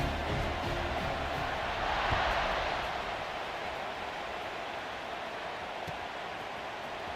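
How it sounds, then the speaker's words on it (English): A stadium crowd roars in the video game EA College Football 26 after a score, a dense, steady wash of distant cheering that swells slightly and then settles into a constant buzz. "this crowd is buzzing after that last score"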